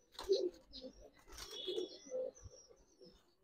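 Giribaz pigeons coo softly in a few short, low bursts close by, with faint chirpy twitters and light rustling between calls.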